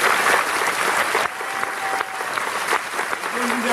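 Audience applauding at a political rally for Jean-Luc Mélenchon, steady dense clapping from a large crowd that runs loud and unbroken for several seconds, with faint voices mixed into the ovation.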